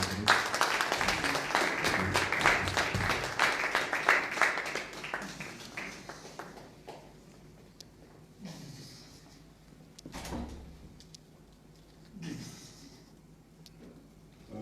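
A church congregation claps to welcome a pastor, with dense, fairly loud clapping for about six seconds that then thins out into scattered claps and quiet room noise.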